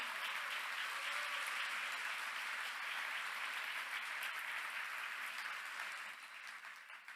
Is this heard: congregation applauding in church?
yes